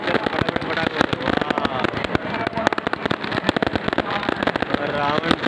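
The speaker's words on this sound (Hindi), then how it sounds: "बहुत ही बेहतरीन आतिशबाजी हो रही है" Fireworks crack and burst rapidly and loudly at a Ravan Dahan celebration during the Dussehra festival, a dense barrage of sharp bangs and crackles going on throughout, with a crowd audible beneath.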